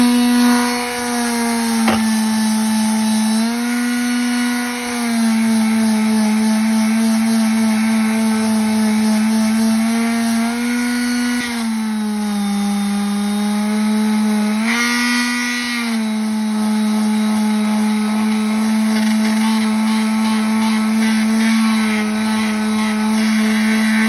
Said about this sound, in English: So now that we have these sanded off